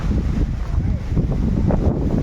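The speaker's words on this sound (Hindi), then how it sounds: "इसी तरह से तेज़ हवाएं चलती है" Strong wind buffets the microphone in a continuous low roar at an evening roadside dhaba in Malegaon, gusting unevenly throughout with no clear pauses.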